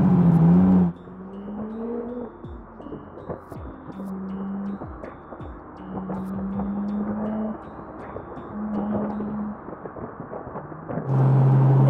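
Porsche 991.2 Turbo S engine pulling hard through the gears, a steady loud in-cabin drone with rising pitch sweeps broken by brief dips at each shift.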